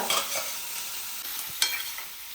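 Potato fry being stirred in a pan, a quiet steady sizzle with a few scraping strokes of the spoon standing out, close by and without any talking.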